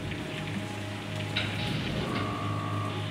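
Heavy rain pours down at Cape Canaveral in May 1961, a steady, dense hiss that holds at an even level, with a faint low hum beneath it.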